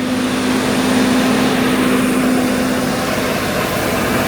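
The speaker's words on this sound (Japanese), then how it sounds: "先頭の蒸気機関車の部分をちょっと見に行こうと思います。" Steam locomotive at the head of a train in southern Africa, fired up and running, gives a loud, steady mechanical roar with a constant low hum, close by and unbroken, with no talk.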